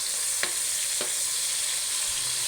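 Tomato frying in hot cooking oil gives a continuous bright sizzle, broken by a couple of sharp ticks and pops from stirring.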